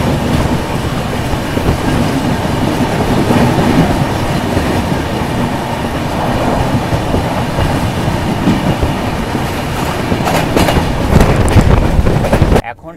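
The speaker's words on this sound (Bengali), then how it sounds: "train number 22504 new Tinsukia superfast এক্সপ্রেসের সাথে" Train 22504, the New Tinsukia Superfast Express, rumbles along steadily with broadband wheel and carriage noise and wind buffeting, staying loud throughout before cutting off abruptly near the end.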